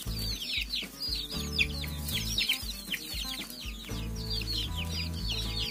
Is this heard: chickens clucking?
yes